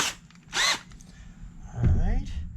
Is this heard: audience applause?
no